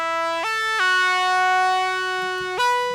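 A Serum synth lead with soft clip distortion, a bright buzzy tone rich in harmonics that steps between a few sustained pitches, loud and alone, with faint low clicks underneath.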